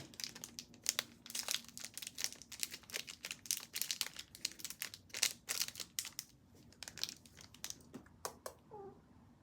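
A Pokémon booster pack wrapper is crinkled and torn open up close, giving a steady run of sharp foil crackles and rustles that thin out into a few last crinkles near the end.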